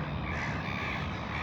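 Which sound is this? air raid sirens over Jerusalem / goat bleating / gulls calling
gulls calling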